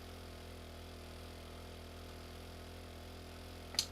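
Truck engine idling in the 7 Days to Die video game, a low steady rumble held throughout at moderate level, with a short sharp click near the end.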